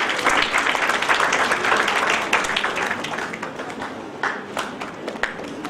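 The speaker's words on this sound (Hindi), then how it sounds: "Please give a huge round of applause." An audience at a book launch ceremony applauds loudly, dense clapping from a crowd that gradually thins and fades into scattered claps.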